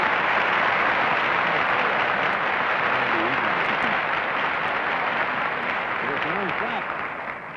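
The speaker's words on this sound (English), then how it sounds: "Yeah, that applause, though." Studio audience at a 1959 TV game show, I've Got a Secret, claps in a loud, steady wash of applause that carries on without a break and tapers off slightly at the end.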